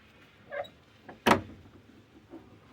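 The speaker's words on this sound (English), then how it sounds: "Well, I will try to open the door, why not?" An old church porch door is tried on a quiet Sunday afternoon, giving one sharp knock or rattle of the latch as it catches locked, with a few faint soft thuds around it and no talk.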